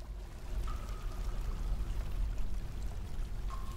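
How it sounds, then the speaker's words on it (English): Waterfalls in the Dwarf Fortress video game give a steady, broad rushing pour that stays constant and unbroken throughout, with a couple of faint tonal blips rising briefly above the flow. "Our waterfalls are still going."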